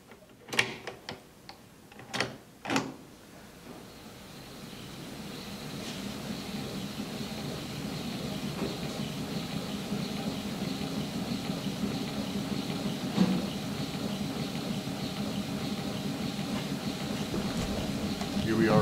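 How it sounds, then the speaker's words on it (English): An 1890s Edison General Electric dynamo driven from a 12-volt DC source with PWM speed control, a few sharp clicks at the start, then a rising mechanical whir and hum that builds and holds steady with a brief knock partway. "We're starting the dynamo."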